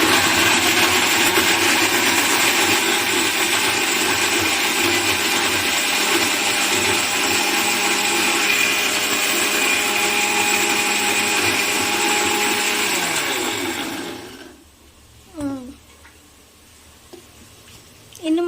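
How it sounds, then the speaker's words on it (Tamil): A mixer grinder whirs steadily and loudly, grinding biryani masala with salt, then is switched off near the end, its motor winding down into near quiet with a few small clicks and handling sounds. "மிக்சியை மூடிக்கலாம், ஃபிட் பண்ணிக்கலாம், ஆன் பண்ணிக்கலாம், ஸ்விட்சை போட்டுக்கலாம்"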